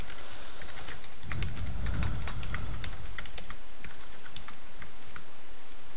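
Rapid, close tapping of keys on a computer keyboard, with irregular clicks running steadily throughout and a soft low rumble in the background.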